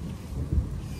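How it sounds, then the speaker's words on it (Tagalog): Low thunder rumbling outdoors during a river-crossing trip, a deep, steady roll with a slight swell midway, under light rain and wind noise. "Uy, kumukulog."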